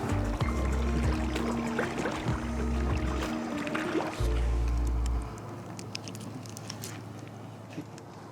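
Boots wading through water on a morning hunting trip, with heavy low sloshing and splashing steps up close that stop partway through, leaving quieter ambient outdoor sound.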